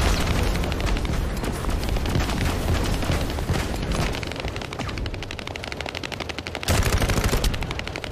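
Enemy gunfire in The First Descendant during the Pyromaniac Intercept Battle, loud sustained rapid automatic bursts with booming impacts and explosions mixed in, continuous throughout with a fresh intense burst near the end.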